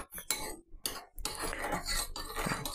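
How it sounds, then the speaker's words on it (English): A spoon stirs lumpy lemon curd in a bowl, scraping and clinking against the sides in quick uneven strokes, close and fairly quiet, with no talking. "We'll just give it a mix around anyway."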